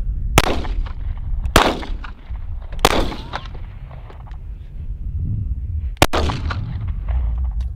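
An HK P7M13 squeeze-cocker pistol fires four sharp, loud shots at uneven intervals, each with a short echoing tail over steady background rumble.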